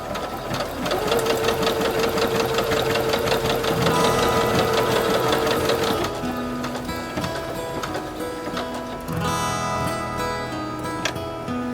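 A new Rainbow home sewing machine runs a decorative zigzag stitch, loud and close, with a fast rhythmic mechanical clatter that changes pattern partway through, then pauses and restarts.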